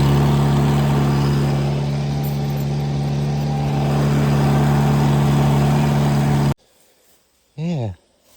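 A vehicle engine runs steadily while dragging firewood logs, a loud droning idle with a slight swell midway, then cuts out abruptly, leaving a near-silent gap broken by a short voice.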